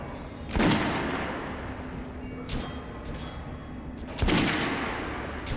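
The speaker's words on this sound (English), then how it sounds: "Head over to my range and try out those guns." Shots ring out on a weapons range in the video game Metro Last Light Redux, with sharp loud cracks and bursts separated by seconds of quieter background noise.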